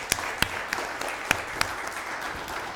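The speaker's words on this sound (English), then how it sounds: "give a big round of applause to Mark." Applause from an audience at a Startup Grind Tampa Bay event, a moderate wash of clapping punctuated by several sharp, close individual claps standing out above the rest.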